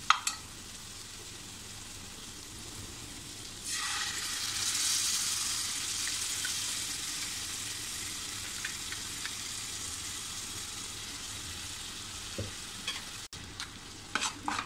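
Ground masala paste with tomato for egg curry starts sizzling loudly when it hits the hot pan, a steady close frying hiss with occasional spatula taps and stirs, fading slightly before a sharp knock at the end.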